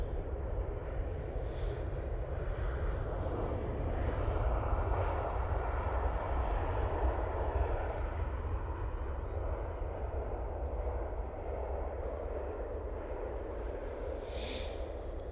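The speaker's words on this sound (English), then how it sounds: "Cork, there you go, it's coming in from Cork. Using 737-800 for this flight." A Ryanair Boeing 737-800 arriving at Manchester Airport from Cork gives a faint, distant, steady jet-engine rumble that holds evenly throughout, with no voices.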